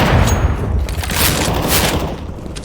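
Rapid gunfire rattles in a Counter-Strike team deathmatch on the Ancient map, dense overlapping shots and booms filling the whole stretch, loud and close.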